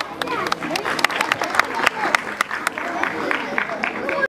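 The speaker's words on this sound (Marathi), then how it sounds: "टाळ्या." Audience applause at a zilla parishad school function, steady clapping and crowd murmur running continuously with a few sharper claps standing out, moderately loud throughout.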